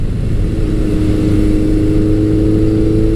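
A two-valve 1100cc Suzuki GS1100 motorcycle engine pulls hard under acceleration, a loud, steady, close-up drone with a rising tone and no talk.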